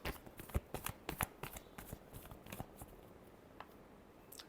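Tarot cards shuffled close by, a run of crisp riffling and flicking bursts that crowd together early and thin out toward the end, with no talking.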